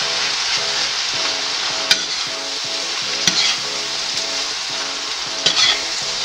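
Sisig sizzling loudly in a pan, a steady dense frying hiss with occasional sharp clicks and pops, close and continuous with no voices.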